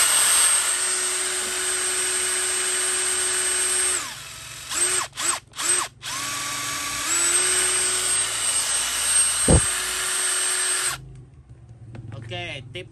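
A Bosch GDR18-1800 brushless cordless impact driver, made in Malaysia and rated at 3400 rpm, runs in a steady high whine, stops with several short bursts, then resumes and finally cuts off near the end, with talk in the background.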